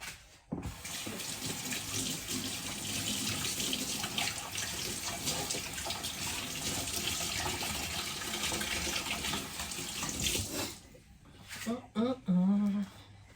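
Steady rush of a running tap as hands are washed, continuous for about ten seconds, then the water stops and a few clinks and shuffles follow.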